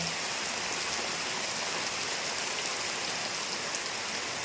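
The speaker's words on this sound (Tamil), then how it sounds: "நல்ல சாரல் மழையாட்டம் பெஞ்சிட்ருக்கு" Light drizzling rain falling steadily in a village, a dense, even hiss of fine drops on surfaces that holds at a constant level throughout, with no voices.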